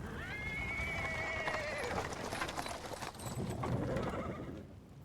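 A small horse pulls a cart over paving stones, its hooves clip-clopping steadily while it neighs and whinnies in a long, clear call near at hand, with wheels rumbling beneath.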